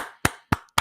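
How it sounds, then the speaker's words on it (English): Three sharp, loud hand claps struck close to a microphone, evenly spaced about a quarter second apart, each a dry broadband crack with a brief decay, with nothing else in between. "And clap right into the mic."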